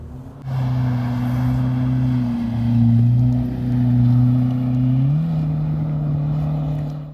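A tuned 1400cc car engine making about 140 horsepower idles and runs steadily up close, a loud droning hum that rises slightly in pitch partway through and holds there.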